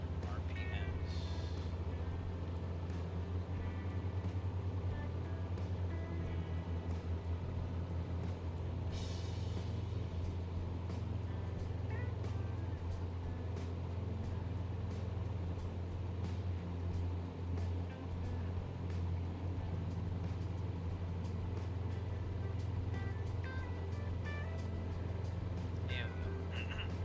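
A Cessna 172 engine running at maximum RPM in flight, a steady, heavy droning hum filling the cabin continuously with faint intermittent clicks and crackles on top.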